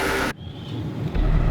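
A car's engine comes in after a sharp cut from a louder scene, idling low at first and then rising in a swell of rumble as it pulls away, close and alone with no talking.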